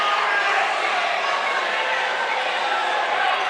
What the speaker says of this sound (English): Lincoln crowd doesn't like that call too much